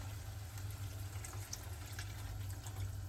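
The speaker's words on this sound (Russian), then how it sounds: "Нужно залить так, чтобы курочку водичка покрывала." Water is poured into a cooking pot over chicken, making a soft, steady gushing and splashing that runs throughout at low volume, with no talk.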